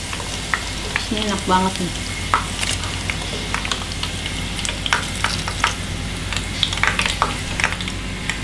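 Food fries in hot oil in a home kitchen, a loud steady sizzle with crackling pops and occasional stirring scrapes, while a person speaks briefly over it.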